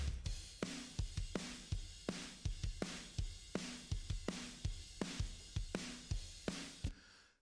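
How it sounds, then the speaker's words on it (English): Modern, punchy studio-recorded chorus drum track from a song mix with noticeable room sound: heavy kick and snare hits in a steady driving rhythm with washy cymbals between, loud and close, no talking. "So the drums in the chorus sound like this."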